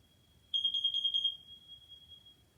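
Smoke alarm sounding during an annual test: a loud, piercing rapid series of beeps close by lasting under a second, then a steady fading tone, with no talk.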